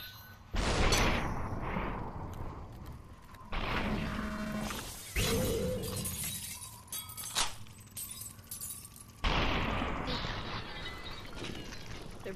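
Gunshots and glassy shattering enemies in SUPERHOT VR, sharp bursts and crystalline breaking crashes arriving in separate clusters, with voices talking between them.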